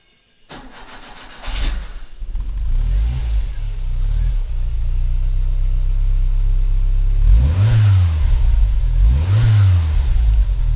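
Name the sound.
Skoda Favorit engine revving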